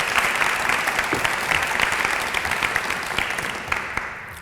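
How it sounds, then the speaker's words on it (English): Applause from an audience at a Somali civic participation forum at the Ohio Statehouse, a dense steady wash of many hands clapping that stays loud throughout and tapers slightly toward the end. "Please give them a round of applause."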